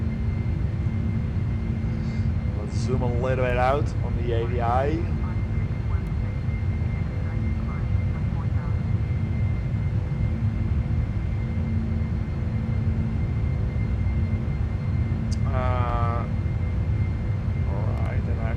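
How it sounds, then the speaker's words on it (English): Four jet engines of a Boeing 747-400F cargo jet roar steadily throughout a simulated takeoff, a loud continuous drone with brief cockpit voices and callouts speaking over it. "Oh, listen to those engines."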